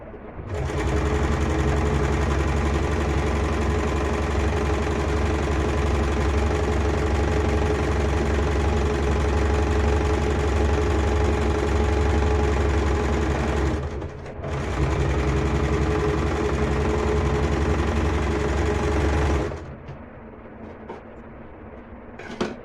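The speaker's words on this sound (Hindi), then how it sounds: "अब हमें इस पे बीचों बीच एक ऐसी सिलाई लगानी है जिससे ये प्लीट्स बिल्कुल एकदम से सेट हो जाएं।" A sewing machine runs steadily for a long stretch while stitching the pleats of a lehenga skirt, a loud close whirring drone with one brief pause midway before it stops.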